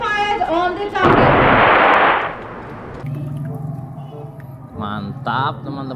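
A burst of loud gunfire-like blasts from a toy combat helicopter erupts between stretches of speech, with a voice talking before and after.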